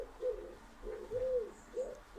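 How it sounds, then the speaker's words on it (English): A pigeon coos on an outdoor balcony, giving a soft, repeated series of low rounded calls in a steady rhythm, faint and moderately distant, with no talking. "There's a pigeon outside."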